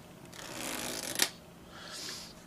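A deck of cards riffled once, a soft fluttering buzz ending in a sharp snap, followed by a lighter rustle as the cards settle.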